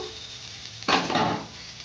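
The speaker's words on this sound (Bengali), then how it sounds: "ক্যাপসিকাম কুচি দিলাম দিয়ে দু তিন মিনিট নেড়ে নেবো" Chopped capsicum gets stirred in a pan for an egg curry with cauliflower: one short scraping, sizzling stroke of a spoon against the pan, fairly close, rising out of a quiet kitchen hum.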